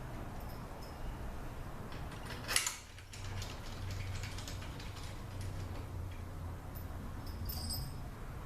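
Quiet ratcheting as bolts are driven into a ZF6HP21 transmission, a faint continuous mechanical whir with soft clicks and one brief sharper clank, nearby in a workshop.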